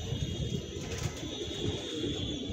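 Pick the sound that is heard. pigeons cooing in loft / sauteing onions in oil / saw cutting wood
pigeons cooing in loft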